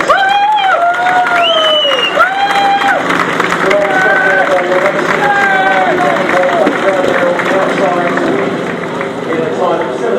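Speedway crowd at Belle Vue cheering and applauding after a British Sidecar Speedway Championship final race, a steady wash of clapping and cheers with an announcer's voice over it throughout.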